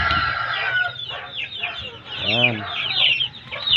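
Chickens on a small poultry farm cluck and squawk steadily, close by, with one clear rising call in the middle, while a person speaks briefly.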